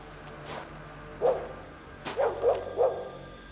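A dog in The Lost Crown barks a handful of times: one bark, a short pause, then three quick barks in a row, fairly close and clear over quiet game ambience.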